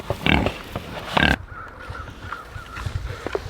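A few short, loud grunts from pigs up close, followed by quieter snuffling and low grunts in the background.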